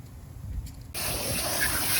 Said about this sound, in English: rinsing everything off